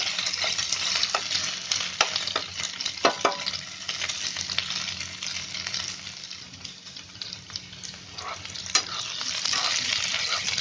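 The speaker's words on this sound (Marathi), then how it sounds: "आता कसं ते अशी जरा हलवून घ्यायचे सगळे, म्हणजे उलटे सुलटे." Sliced ivy gourd (tendli) sizzles steadily as it shallow fries in oil in a pan, with scattered sharp scraping and clinking as a spatula stirs and flips the pieces, close and continuous without talk.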